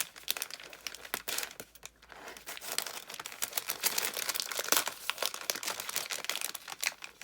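Close, busy crinkling and tearing of tape and paper wrapping as hands pick at a taped advent calendar gift package, continuous rustling with sharp rips throughout.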